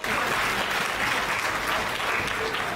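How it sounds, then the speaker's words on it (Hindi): A crowd at a live comedy and song performance breaks into loud, sustained applause, a thick continuous roar of clapping that cuts off abruptly at the end. "एक बार जोरदार ताली बजा दीजिए"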